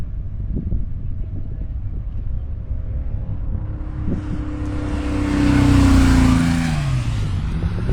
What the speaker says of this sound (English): we've got the Porsche headed this way to take the checkered flag